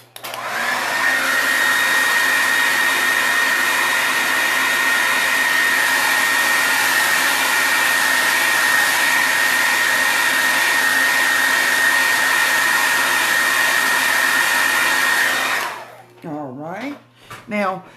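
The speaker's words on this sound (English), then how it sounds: "I'm going to have to hit it with the blow dryer again" A blow dryer runs steadily and loudly with a constant whirring hum for about fifteen seconds, then cuts off and a voice briefly speaks.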